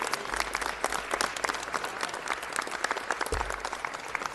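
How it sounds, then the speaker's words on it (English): Applause from the audience at a Los Angeles city council meeting, a steady, dense crackle of many hands clapping throughout, moderately distant and without talk. "Let's give Ms. Ford a round of applause."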